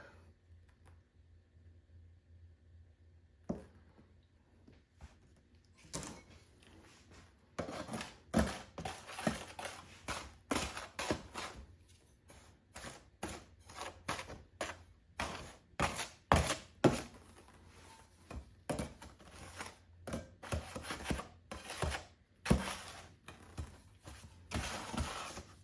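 Petrobond oil-bonded foundry sand being worked and mixed by hand, giving a series of crunchy, gritty scrapes and squeezes at close range. The strokes come in irregular bursts, faint at first, then steady and fairly loud.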